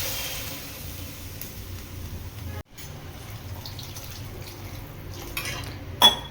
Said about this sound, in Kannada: ಮಿಕ್ಸ್ ಎಲ್ಲ ಆದಮೇಲೆ ನಾನಿಲ್ಲಿ ನೀರು ಹಾಕೋತಾ ಇದ್ದೀನಿ.